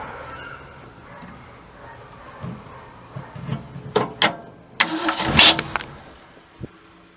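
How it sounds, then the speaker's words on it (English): A 1967 Ford Galaxie engine is cranked after its carburetor bowl is filled, with faint clicks and low turnover sputters building into loud, sharp bursts as it catches, then fading back down. "So I'm going to turn the engine over."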